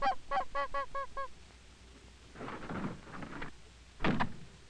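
Canada geese honking in a field: a rapid series of about six loud, clear honks, then quieter mixed calls and a final louder burst, with faint background noise.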